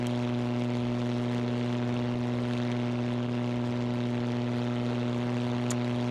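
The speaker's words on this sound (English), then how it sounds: "Open the throttles, gate if you have to." Aircraft engine at open throttle in the Battle of Britain game 303 Squadron, a steady loud droning hum with strong tonal harmonics, constant and close throughout.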